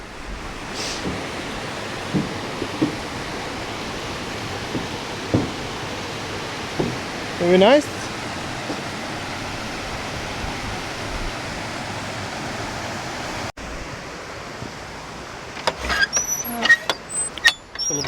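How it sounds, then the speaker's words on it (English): The River Ribble rushing along in the Yorkshire Dales, a steady broad roar of flowing water throughout, broken by a few brief knocks and handling noises and a short spoken remark. "The River Ribble."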